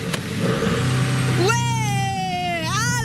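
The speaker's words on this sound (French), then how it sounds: "Alors là, on a réussi à démarrer la voiture." A car engine cranks briefly and catches, then settles into a steady idle with a second rev near the end, heard up close.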